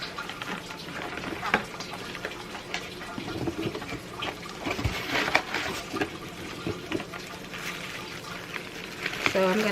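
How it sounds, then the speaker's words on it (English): A Tower Garden hydroponic tower begins watering itself, with water trickling and splashing continuously through the column, steady and close, with occasional clicks and small knocks. "I have my tower garden water starting to water itself."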